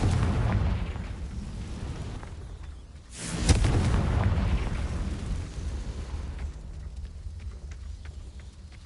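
A Confringo blasting curse explodes in the Hogwarts Legacy video game: a deep rumbling blast that swells around the midpoint and rolls on under a dense, noisy roar, with no talk.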